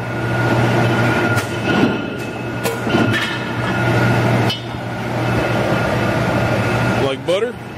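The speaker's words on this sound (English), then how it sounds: "Gonna punch a hole in a piece of 5/8 steel." A Kingsland 110-ton ironworker punching a hole through 5/8-inch steel: a loud, steady machine hum fills the space, ending in a sharp clunk near the finish.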